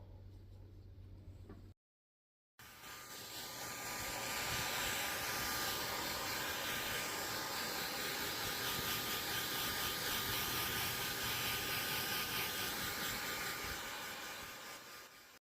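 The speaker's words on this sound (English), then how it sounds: "Ready for the blow dryer?" A handheld blow dryer roars steadily and loudly at close range for most of the clip after a brief gap, with a broad, constant whooshing hiss as someone is dried off.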